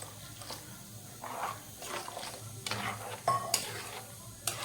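Onion and coconut roasting in a pan are stirred with a utensil that scrapes and taps against the metal in irregular strokes over a soft, continuous sizzle, close up and with no talking.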